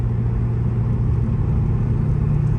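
Steady low road rumble and engine drone inside a 1997 Mitsubishi GTO cruising smoothly, a quiet, even cabin hum with no creaks and no talking.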